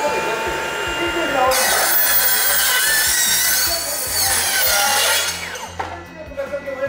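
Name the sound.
Hilti cordless metal circular saw cold-cutting a profile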